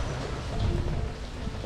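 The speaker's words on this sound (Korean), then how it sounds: "비가 많이 와가지고" Heavy rain pours steadily in a downpour in Cebu, a dense, even hiss of falling water with a low rumble underneath.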